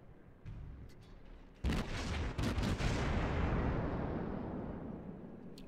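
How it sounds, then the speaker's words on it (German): Naval gunfire in World of Warships: a single heavy boom from a battleship broadside erupts and rolls into a long decaying rumble, preceded by faint distant cracks, loud and close. "So, Beschuss kommt auch schon."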